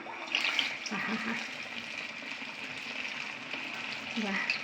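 Medu vada made from urad dal batter is dropped from a mold into hot frying oil, giving a steady, close hiss of sizzling oil that runs the whole time beneath a person talking.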